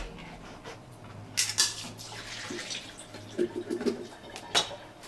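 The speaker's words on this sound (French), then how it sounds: "On les rince à l'eau fraîche." Canned artichoke hearts rinsed under a running tap, with intermittent splashing and trickling water in short bursts, fairly close and quiet, no speech over it.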